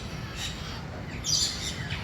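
Birds calling in an open wildlife park, a few short chirps and tweets at moderate distance over a steady outdoor background, with one brighter call standing out midway.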